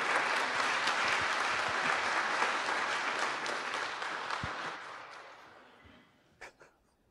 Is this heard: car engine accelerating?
no